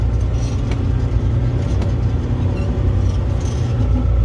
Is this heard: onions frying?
no